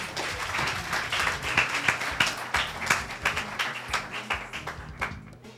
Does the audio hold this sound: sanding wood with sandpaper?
no